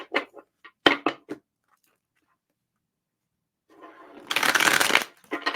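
Tarot cards being riffled and shuffled, a few short flicks first, then a quiet pause and a longer, louder riffle close by.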